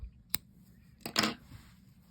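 Scissors snipping yarn while making a super chunky beanie, a quick sharp snip and then a double snip a moment later, close and quiet in an otherwise still room.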